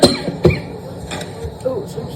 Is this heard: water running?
no